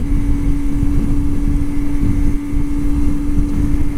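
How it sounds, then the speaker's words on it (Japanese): A Kawasaki ZX-25R Indonesian-spec motorcycle cruises at 100 km/h in sixth gear at about 9000 rpm, its engine a steady, loud, high whine under heavy, constant wind rush. "今時速100キロです。 エンジンが 9000rpm ぐらいですね。 でギアは6速です。"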